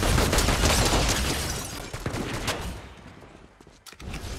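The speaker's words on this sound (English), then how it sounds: "We're definitely getting shot at." Gunfire aimed at a player in Fortnite: a dense burst of rapid shots up close, thinning out into scattered cracks after a couple of seconds, with no talking.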